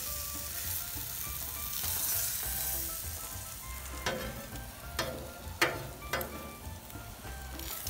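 A birria taco tortilla fries on a hot surface while being pressed down to crisp, giving a soft continuous sizzle with several sharp scraping clicks from the spatula and a low hum underneath.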